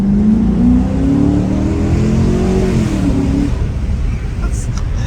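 A 2015 Dodge Challenger Hemi Shaker revs hard, its loud engine note climbing and wavering for a few seconds before dropping away into a rushing drone.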